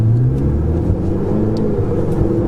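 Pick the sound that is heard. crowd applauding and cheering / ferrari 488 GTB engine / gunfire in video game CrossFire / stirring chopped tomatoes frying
ferrari 488 GTB engine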